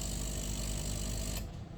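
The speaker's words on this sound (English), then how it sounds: "Now we've got to have water pass out of the milk frother section." A coffee machine running its rinse cycle, pumping water out through the milk frother with a steady loud mechanical hum and buzz that cuts off abruptly near the end, leaving a faint low rumble.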